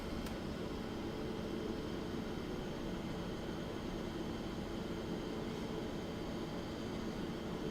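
A light aircraft taxiing in a flight simulator game, heard as a continuous droning engine hum with a steady broadband rumble and no notable changes in level, no talk.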